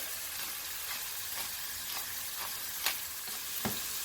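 Ground beef seasoned with chili powder and cracked black pepper sizzles steadily in a pan for a tamale pie filling, with a few sharp scrapes and taps as it is broken apart; no voices.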